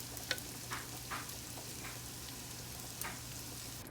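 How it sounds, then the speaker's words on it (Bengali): Water and milk poured into a pot of frying rice for chicken biryani, giving a steady sizzle with a few brief scraping stirs over a low hum. "চালটা ভাজা ভাজা হয়ে গেছে। এখন আমি পানি ও দুধ ঢেলে দেব।"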